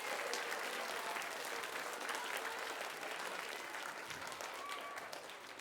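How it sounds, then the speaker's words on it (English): A school audience applauds spelling bee contestants at a middle school event, a steady, dense wash of clapping from many hands that holds evenly throughout and tapers only slightly near the end. "Give them a round of applause."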